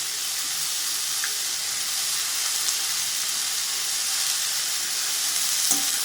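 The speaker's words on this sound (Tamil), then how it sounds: "பிரண்டையும் சேர்த்துட்டு நல்லா வதக்குவோம்" Perandai, the adamant creeper, sautéed with tomatoes in a pan, giving an even, steady hiss of gentle sizzling close by, with a faint clink near the end.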